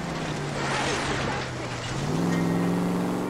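A car driving in the 1940s Los Angeles crime game LA Noire, its engine droning steadily and shifting pitch upward as it speeds along, loud and close.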